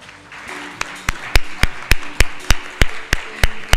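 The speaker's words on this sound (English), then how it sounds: "A warm round of applause, please." Audience applause at a conference launching an African tax transparency progress report: a steady run of sharp, loud claps building over the room, with the individual hand claps standing out near the microphone.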